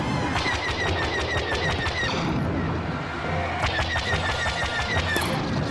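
Rapid blaster fire in the Star Wars Battlefront video game, dense repeated bursts of shots with a brief lull midway before the firing resumes, loud and close over a constant rumble of battle.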